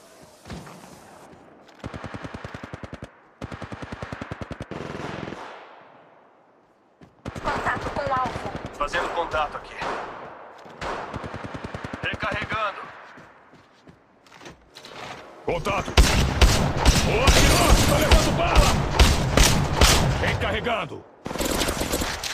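Gunfire in the video game Apex Legends, with repeated bursts of rapid automatic fire and shots, growing into a loud, dense barrage toward the end, with talk in places.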